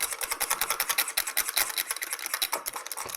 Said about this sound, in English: so I am going to whisk it really good because I still see it's kind of clumpy